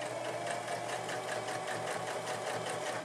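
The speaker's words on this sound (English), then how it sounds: "Using a straight stitch. Okay, and then we want to put this rickrack on there as well." Sewing machine running a straight stitch to attach rickrack trim onto a homemade Christmas stocking, a fast, even mechanical whirr with a regular rapid clatter, close and continuous throughout.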